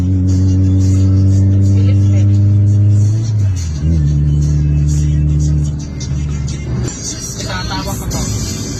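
A car engine revving through its stock muffler, with a deep droning exhaust tone that rises, drops and shifts pitch. It settles into a rougher rumble near the end, with brief speech.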